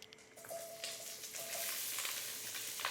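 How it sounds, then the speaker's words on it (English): Steady sizzling and crackling of lemongrass chicken stir-frying in a hot pan, moderately loud and continuous, with a few brief scraping stirs. "We got a nice sizzle that's going right now."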